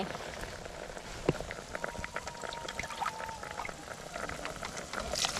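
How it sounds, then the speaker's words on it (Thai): Water is poured into a simmering pot of rattan curry with beef bones, a soft, close splashing and bubbling trickle that runs on quietly without speech. "เพิ่มน้ำอีกเนาะ"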